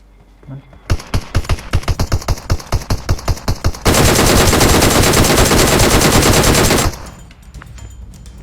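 PUBG Mobile gunfire on the Livik map, a burst of distinct rapid shots followed by a sustained roaring stream of automatic fire that cuts off suddenly, loud and close over faint background.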